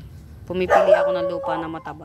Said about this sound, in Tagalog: Sorry sa aso, maingay.